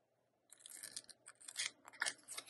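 Scissors trim a sheet of paper for a St. Patrick's Day craft tag, making quiet, crisp snipping and rustling in irregular short bursts, close up.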